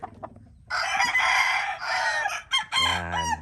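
A rooster crows loudly nearby on a farm in a long drawn-out call, followed by a second shorter crow, with faint chicken clucking at the start.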